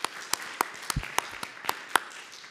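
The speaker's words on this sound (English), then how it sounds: "Let's clap." Scattered clapping from a small church congregation during a worship service, a handful of sharp, separate claps spaced irregularly and fairly close, with a brief low voice sound partway through.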